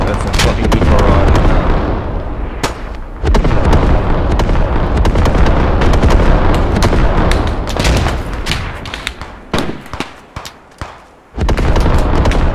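Artillery barrage in the video game Squad: a dense, loud roar of booming explosions and gunfire that rolls on almost without pause, thinning out briefly near the end before another heavy blast hits.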